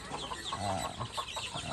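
Free-range local chickens on an organic farm cluck and chatter continuously, several birds close by in a busy, overlapping flock sound.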